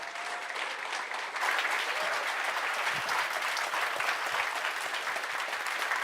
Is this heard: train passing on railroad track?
no